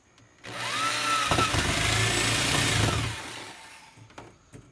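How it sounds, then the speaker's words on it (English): A large power drill runs in reverse for about three seconds, a loud steady whir with a rising then falling motor pitch, starting abruptly and cutting off, followed by faint clatter. "I had the damn drill on reverse"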